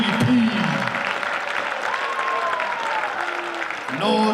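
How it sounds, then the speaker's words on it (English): Applause at a secondary schools basketball championship awards ceremony in an arena, as a crowd claps steadily for a few seconds while a voice speaks over the clapping. "Big round of applause for our All-Star 5 and MVP."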